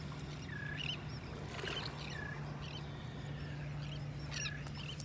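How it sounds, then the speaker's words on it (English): An unidentified bird on a North Naples, Florida beach gives repeated screeching calls, several short rising shrieks spaced a second or so apart and heard at moderate distance over a constant low hum and faint surf. "I don't know what that bird was that was screeching"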